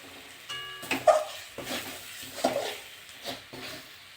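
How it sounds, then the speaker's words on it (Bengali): Chicken skin and potatoes are stirred in a frying pan, with a soft sizzle and a few scraping strokes of the spoon at an irregular pace, close and moderately quiet, with no talking. "এটা এবার নেড়ে নেব।"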